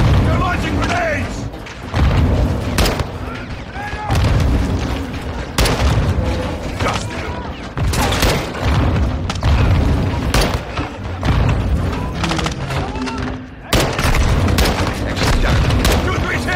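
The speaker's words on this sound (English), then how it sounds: "Incoming! Take cover! They're launching grenades!" Grenades burst in a Call of Duty Modern Warfare 2 firefight, a string of loud, heavy booms landing every second or two amid gunfire and battlefield clatter.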